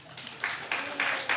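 A church congregation applauds a small group, a broad wash of clapping that rises in swelling waves, moderately loud and close, with no talk over it.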